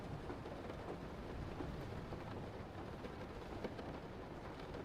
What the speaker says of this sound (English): I will not be sending you any rain sounds that I use.